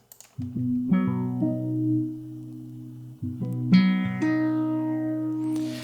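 Clean electric guitar notes and chords ring out through a stereo-spread filter tremolo effect built in FL Studio, wavering and pulsing, played alone at moderate volume.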